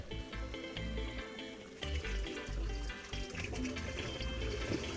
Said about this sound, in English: we got the pumps going